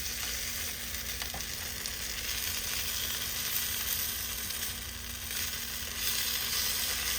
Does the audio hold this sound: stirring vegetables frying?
yes